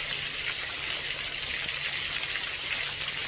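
Water flows outdoors in nature as a soft, steady gushing hiss, constant and moderately near with no breaks or voices.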